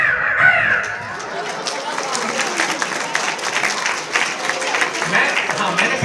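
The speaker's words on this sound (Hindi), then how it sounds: "देखो कौवा आवाज कैसे करता है" Crow cawing amid steady broadband noise, with what may be clapping and a voice talking over it throughout.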